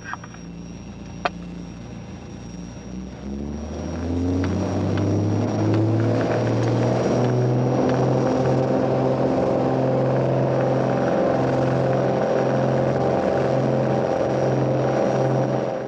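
A fixed-wing propeller aircraft begins its takeoff roll on runway 21 at Fort Nelson, the engine note rising and holding loud and steady as it gathers speed, with no talk over it.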